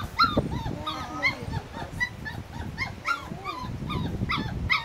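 Young puppies whimper and yip close by in a run of high thin cries and squeaks, with soft rustling and low background noise beneath them.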